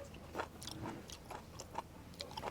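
Crunchy chewing of kathena being eaten alongside a Thai-Lao chili dip and beef dish, a few crisp bites spaced through the moment, close and fairly quiet with no talking.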